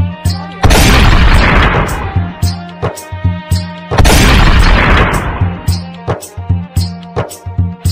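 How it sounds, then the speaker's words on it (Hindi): A bomb hidden in a bag goes off in two loud, booming blasts that decay into rumbling debris, followed by a series of sharp crackling pops between and after the explosions. "मैंने बैग में बम फिट कर दिया था, कुछ देर में फूट रहे हो गया"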